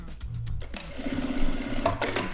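A domestic sewing machine runs a straight seam through fabric in a sewing workshop, a steady close whirring hum with short starts and stops, no talking.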